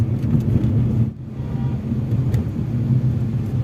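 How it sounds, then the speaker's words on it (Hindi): Heavy traffic rolling along the Mumbai-Pune Expressway, a steady low rumble of car engines and tyres with a brief dip midway, no voices. "मुंबई के बाहर जाने वाली ये ट्रैफिक है जो मुंबई पुणे एक्सप्रेस हाईवे पे जाती है।"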